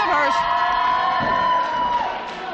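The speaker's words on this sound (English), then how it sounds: "this crowd is going nuts" A wrestling crowd at an RWA Season's Beatings show roars and cheers loudly, with sustained shouting and whoops filling the arena.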